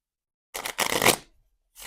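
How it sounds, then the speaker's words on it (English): Shuffling a deck of playing cards by hand: a short burst of riffling followed by a longer, dense flutter of cards, close and crisp, then another brief riffle starting at the end. "I will give the deck a shuffle"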